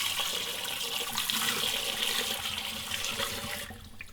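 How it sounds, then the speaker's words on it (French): Tap water pouring steadily into a pot of canning jars for preserving cherry tomatoes, a continuous close rushing splash that eases slightly at the end. "il n'y a plus qu'à remplir d'eau"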